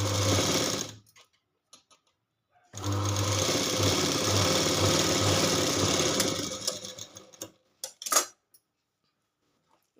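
A sewing machine stitches cloth for a size 34 garment in two close, steady runs: a short burst, a pause, then a longer even whir of several seconds, followed by a few brief clicks and knocks.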